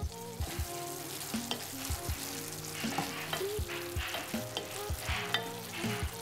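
Green tomatoes and lapsi cooking for chutney in a pan, being stirred: a faint steady sizzle with repeated scraping and knocking of a spoon against the pan.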